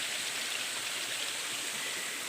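Rushing water from the Anini-y waterfalls in Antique, a steady hissing broadband roar heard continuously and evenly throughout, with no voices over it.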